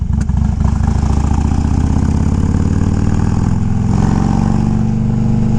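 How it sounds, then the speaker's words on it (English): A 2000 Harley-Davidson FLHTCUI V-twin with custom exhaust rumbles loudly and steadily at close range, a deep throbbing idle with a slight swell partway through and no talking. "Exhaust is nice rumble."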